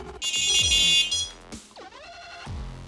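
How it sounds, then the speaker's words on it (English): Sonik Gizmo fishing bite alarm sounding in a series of electronic tones: a loud, sustained high beep, a short gap, a rising chirp, then a softer run of tones, heard alone without talk. "When you trigger the alarm for a bite"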